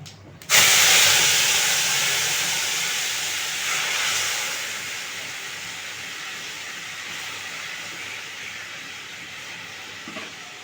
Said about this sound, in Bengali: এবার ডালটা দিয়ে দিচ্ছি